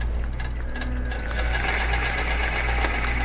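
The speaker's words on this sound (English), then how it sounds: "so we'll push the go button" A QBOT quilting machine stitches offset curves: a steady, fast mechanical needle hum that runs close and continuous, growing slightly louder after the start.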